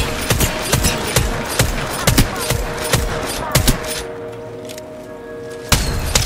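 Gunfire in the battle royale video game Apex Legends, with rapid repeated sharp shots in uneven bursts, a short lull, then one more loud crack.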